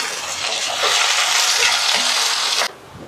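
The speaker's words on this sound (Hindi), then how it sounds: "प्याज को हम 2 से 3 मिनट के लिए फ्राई कर लेंगे" Chopped onion frying in hot oil with nigella seeds, a dense steady sizzle that holds loud and even before dropping off sharply near the end, no voices.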